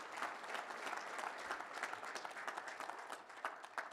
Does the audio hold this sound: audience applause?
yes